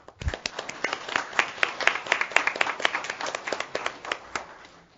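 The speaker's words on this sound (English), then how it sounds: "give them a big round of applause" Applause from an audience at a community proclamation for Parks and Recreation Professionals Day: many hands clapping in a steady, dense patter that fills the whole stretch, with faint voices underneath.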